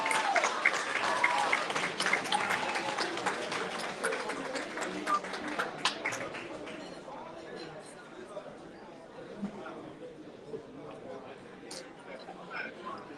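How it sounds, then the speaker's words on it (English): A crowd applauds, loud at first then gradually thinning over several seconds, with murmured chatter and voices mixed in. "Please give them a round of applause."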